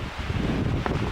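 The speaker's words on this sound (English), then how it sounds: "It's pretty windy out here." Strong wind blowing just above the tree line on a mountain on the Continental Divide, a steady broadband roar buffeting the microphone, loud and continuous with no voices.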